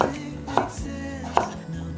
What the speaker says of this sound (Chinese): 把马铃薯切成薄片